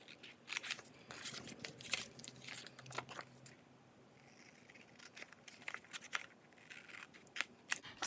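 Scissors snip through chalk transfer sheets in quick, crisp, irregular cuts, close and fairly quiet, with brief pauses between bursts.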